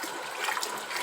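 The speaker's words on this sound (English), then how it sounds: "So I will add more water and wash until all these peels are off." Black-eyed peas being washed in water give a brief, close swishing and trickling, with no voices.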